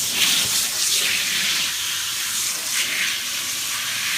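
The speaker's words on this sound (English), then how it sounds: "Just rinse the blind down." Running water rinses a window blind, a loud, continuous close hiss and splash that holds steady throughout with no talk.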